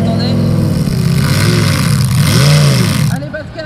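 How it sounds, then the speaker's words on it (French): A tractor-pulling vehicle fitted with a modified motorcycle or car engine revs loudly at an agricultural fair, its pitch rising and falling in sweeping surges before the roar cuts off abruptly near the end. "on trouve des moteurs de moto, de voitures trafiquées, bref, ils font vraiment ce qu'ils veulent"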